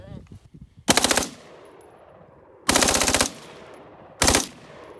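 A Delta Team Tactical FRT-15L3 rifle fires three loud, close bursts of very rapid shots, each burst short and separated by quiet pauses with faint handling noise.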